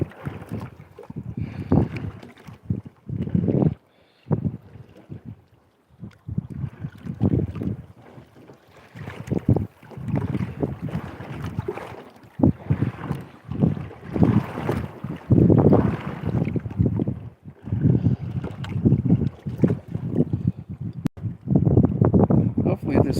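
Strong gusting wind buffets the microphone on open lake water, rough and uneven bursts rising and falling throughout, with a voice talking intermittently over it.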